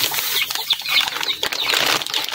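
A flock of chicks feeding on babystag feed, with dense high peeping and chirping, rustling and flutters up close, steady and busy throughout.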